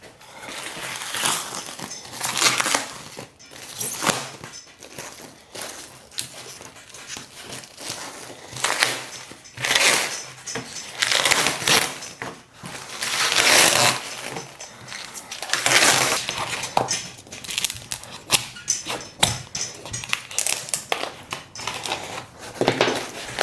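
Peel ply fabric being handled and laid over a carbon fibre part for a BMW, heard close up as irregular bursts of crinkling, rustling and tapping with short pauses between.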